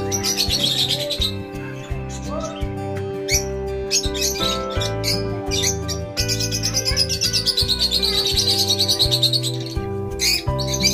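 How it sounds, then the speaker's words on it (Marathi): Parrots of several kinds chirp and screech in a bird enclosure at a picnic retreat near Pune, with quick repeated tweets and calls overlapping in steady bursts close by. "सर्व टाईपचे पॅरेट आहेत."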